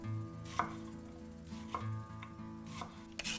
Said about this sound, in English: 1/3 of the cucumber cut in 2 small sticks.